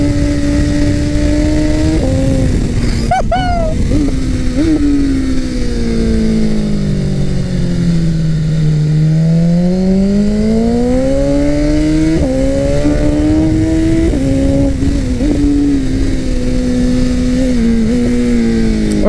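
A BMW S1000RR sport motorcycle ridden hard through curves, its engine howling loud and close throughout, pitch sweeping down and back up as the rider eases off and accelerates again, with no voices.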